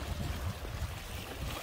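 Sea waves wash against the rocky shore at Yeonggeumjeong on the Korean coast, a low, continuous churning surge heard close up with no voices.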